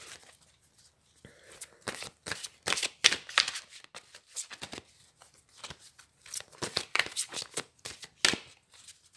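Tarot cards shuffled by hand in a run of quick riffling, flicking bursts, pausing briefly before a second flurry of rapid card slaps, close and fairly crisp with no talking.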